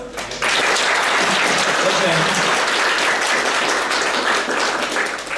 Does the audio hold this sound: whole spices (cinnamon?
no